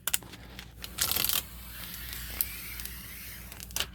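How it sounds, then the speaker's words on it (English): Protective tape peeled off the side of a Hisense 50R61G TV, a close, crackly tearing rasp that swells in a brief loud burst, then eases into quieter intermittent crackles and small ticks. "Fairly satisfying peel."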